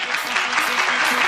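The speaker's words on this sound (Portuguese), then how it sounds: "por favor, aplaudam Hugo Bessa" A conference crowd at a front-end developer event in São Paulo claps as speaker Hugo Bessa is called to the stage, a brief burst of dense, steady applause close by with no voices.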